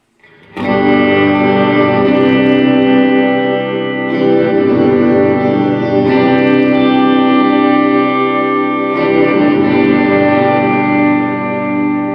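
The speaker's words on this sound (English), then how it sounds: "It's a nice, clean reverb." Sustained clean electric guitar chords ring out through a Biyang RV-10 Tri Reverb pedal on its A setting, lush reverb wash, struck anew a few times and blending into a dense, shimmering tail.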